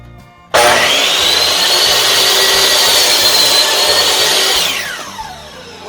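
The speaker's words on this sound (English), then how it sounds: "we're just going to do just a 90-degree cut" A Metabo (Hitachi) C 10FCG compound miter saw makes a straight 90-degree crosscut through a piece of wood. The blade roars up loud and steady for about four seconds, then winds down as the cut finishes, with no talk.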